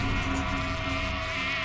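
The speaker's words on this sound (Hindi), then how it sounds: "क्या आवाज? किसी ने मधुमक्खी को छेड़ दिया क्या?" A swarm of bees buzzing in a TV drama scene inside a haveli, a dense, steady droning hum that holds at an even level throughout with no voices.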